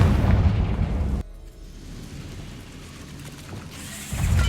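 Confringo blasting spell in Hogwarts Legacy goes off as a loud, deep boom with a sharp onset, then drops to a low rumbling tail before another heavy burst swells at the end.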